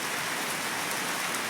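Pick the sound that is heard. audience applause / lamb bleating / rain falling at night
rain falling at night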